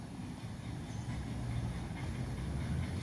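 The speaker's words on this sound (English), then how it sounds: "The Baltimore and Ohio steamer just took up the mountain division, so it's running too with the passenger train" A Baltimore and Ohio steam locomotive hauls a passenger train on a mountain division, heard as a faint, steady rolling rumble and hiss with soft rhythmic clatter and no voices.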